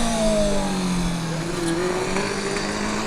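A Cambridge Formula Student race car on an endurance track passes by, its engine a steady mid-pitched drone that slides gradually downward in pitch as it moves away, fairly close and continuous without talk.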